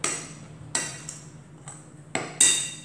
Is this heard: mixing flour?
yes